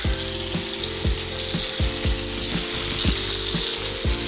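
Potatoes and julienned onion fry in a hot pan, giving a steady close sizzle with recurring crackling pops and bubbling throughout, alone with no talk.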